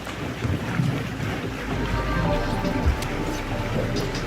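A Highfield inflatable boat motors slowly home at four or five knots across open water. A steady engine drone mixes with water wash and heavy wind buffeting on the microphone, loud and continuous.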